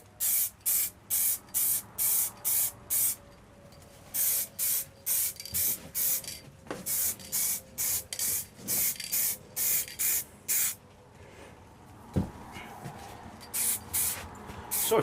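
A spray can or gun applies a grunge-finish paint coat in a long run of short, regular hissing bursts, close and steady, with brief pauses between passes and occasional light handling knocks.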